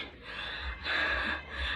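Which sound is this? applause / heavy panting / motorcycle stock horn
heavy panting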